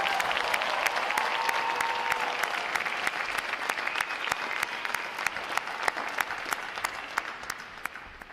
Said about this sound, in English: How about a round of applause for outstanding performance today, folks?